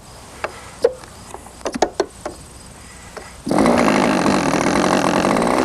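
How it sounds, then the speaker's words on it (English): A small glow-fuel engine on a radio-controlled model airplane, a 1987 Great Planes trainer, gives several sharp clicks and pops while being cranked, then catches and runs with a loud, steady, buzzing whine close by. "we've already got a little fuel up there in the engine, so let's see if it starts"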